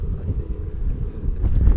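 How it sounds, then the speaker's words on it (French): Strong wind gusts across the open Glengesh Pass in Ireland, buffeting the microphone with a low, rumbling roar that swells toward the end; faint voices may be mixed in beneath it. "il y a beaucoup de vent"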